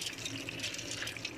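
Water pouring and splashing briefly as rice for chicken kabsa is drained, a soft close gush with no talking.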